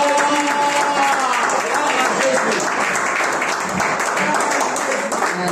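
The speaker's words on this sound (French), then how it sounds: "Maintenant, acclamons Jésus" A church congregation at a Sunday service applauds to acclaim Jesus, a dense sustained clapping from a crowd close by, with voices calling out over it.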